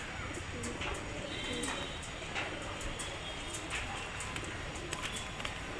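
Faint pigeon cooing beneath a hissy, noisy background, with scattered light clicks and rustles throughout.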